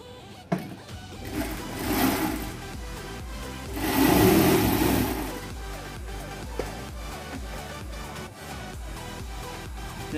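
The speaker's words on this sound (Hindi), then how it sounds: "हम पहले साइड में सिला लगाएंगे" Sewing machine stitching the side seam of cotton palazzo pants, a steady mechanical whir with rhythmic needle ticks that swells louder around the middle, running alone without talk.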